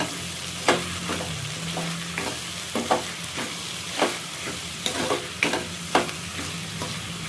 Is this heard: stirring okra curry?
yes